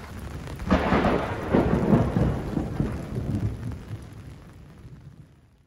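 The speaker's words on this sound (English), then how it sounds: "Rain and the thunder lasted well into the night" A heavy rumble of thunder rolls through a rainstorm at Lake Atitlán, swelling quickly and then slowly fading away over several seconds above a steady hiss of rain.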